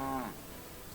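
A bull lows in the medieval village of Kingdom Come: Deliverance 2: a single deep moo that opens strong, then fades within a second into quiet game ambience.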